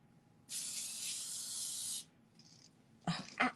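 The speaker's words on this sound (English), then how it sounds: "I just walk around all day in my house spraying, spraying this." A steady hiss of aerosol spray lasting over a second, then a brief faint puff and a couple of short rustling noises.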